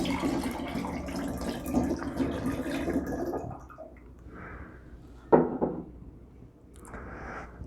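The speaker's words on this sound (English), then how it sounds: "let's go ahead and add our orange juice" Orange juice poured from a container into a mixture already holding honey and water: a steady liquid stream splashing for several seconds, then a brief thump and trickling drips as the pour tapers off.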